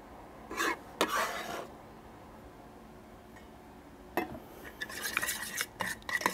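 A spoon stirs finely chopped garlic into yogurt in a bowl, giving a few close, scraping clinks in short bursts with a quiet pause between them. No one speaks.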